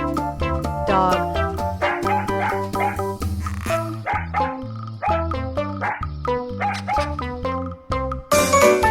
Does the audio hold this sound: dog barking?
yes